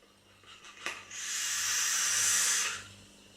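Vapour drawn through a Kryten RDA clone atomizer running at 50 watts, one steady breathy hiss that swells after a brief click and holds for about two seconds before fading, close and fairly loud.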